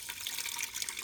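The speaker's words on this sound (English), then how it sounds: "So I'm just gonna add water," Filtered water pours into an Instant Pot while making Dominican-style rice pudding, a steady, close splashing rush that runs for about a second with no talking.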